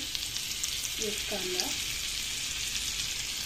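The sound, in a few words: onion frying in butter in a pan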